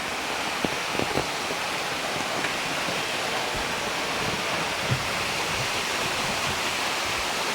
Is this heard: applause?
no